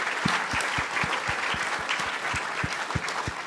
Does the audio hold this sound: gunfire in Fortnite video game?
no